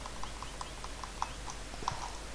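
Rhythmic clip-clop of video game horse hooves at a steady trot, moderately close, with soft background ambience and no talking.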